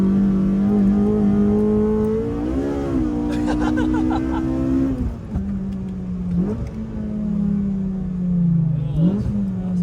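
A Honda Civic Type R engine revs hard with a raspy, yappy exhaust note, a steady loud drone rising in pitch, dipping briefly between gear changes and climbing again, heard from inside the cabin.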